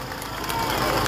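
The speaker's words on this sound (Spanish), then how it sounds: "que se levanten los aplausos" Crowd at a Marian religious procession and pilgrim caravan for the Virgin of Itatí, applauding and cheering in a steady, dense roar that swells slightly over one second.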